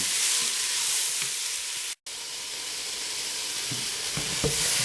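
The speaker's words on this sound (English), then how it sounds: "So you can just fry them a bit so they don't taste too raw." Chili, garlic and other ingredients fry in a pan with a steady, close sizzle and occasional stirring scrapes, briefly cut out for a moment midway, with no talking.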